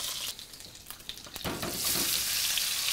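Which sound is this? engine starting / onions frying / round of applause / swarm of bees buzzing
onions frying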